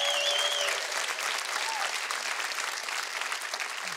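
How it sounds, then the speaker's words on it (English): An audience at a comedy show claps steadily, a dense wash of applause with faint cheers and a whistle near the start. "give the Army a round of applause"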